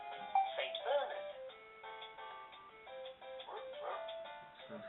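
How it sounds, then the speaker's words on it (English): Toy Leapster 2 handheld playing a recorded St. Bernard dog bark, a series of tinny, thin electronic barks and whines repeating through a small speaker, with a person's voice talking faintly alongside. "Sounds like a dog or something"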